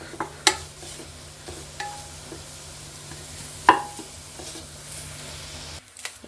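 Grated coconut roasted in a pan and stirred, with occasional scrapes and taps of the spoon against the pan over a faint steady sizzle.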